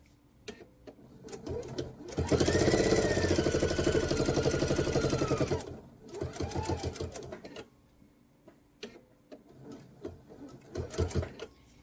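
A sewing machine stitches binding onto a quilt in short bursts: one long run of rapid, steady whirring stitches, then several brief starts and stops with quiet gaps, heard up close with no speech.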